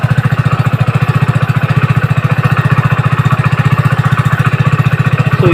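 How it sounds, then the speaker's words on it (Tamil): A Hero Splendor BS6 motorcycle engine idling up close, a loud, steady, rapid low putter with an even rhythmic pulse that holds unchanged throughout, with no voices over it. "பைக் ஸ்டார்ட் பண்ணி விட்டுக்குங்க"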